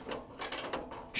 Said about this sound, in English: I'm just taking out the last of these bolts, these 15mm